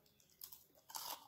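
Quiet, close crunching of crispy fried chicken skin being chewed, two brief bursts of crackle within about a second.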